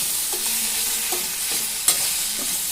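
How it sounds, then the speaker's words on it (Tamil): Tomatoes sautéing in a pan for onion chutney served with dosa: a bright, steady sizzle with a few quick spoon scrapes and one sharp clink, close and loud, no voices. "இப்போ தக்காளி ஆட் பண்ணதுக்கப்புறம் லைட்டாக கொஞ்சம் வதங்கணும்."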